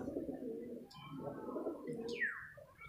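A female pigeon coos softly and repeatedly in low, throaty murmurs, with a faint higher chirp from another bird nearby.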